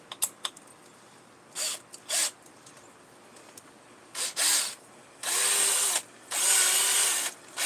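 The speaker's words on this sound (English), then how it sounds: "I got it in my little cordless drill, 20 volt." A 20-volt cordless drill with an auger mixing soil in a greenhouse whirs in short bursts, then two longer runs near the end, with a few small clicks and knocks between.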